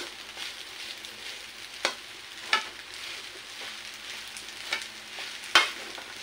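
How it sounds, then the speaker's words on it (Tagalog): Fried rice hisses in a hot pan while being stirred to break up lumps of rice, a constant sizzle with a few sharp spatula scrapes and knocks, close up and without speech. "haluin ko muna ng haluin kasi meron pa palang hindi pa durog na kanin"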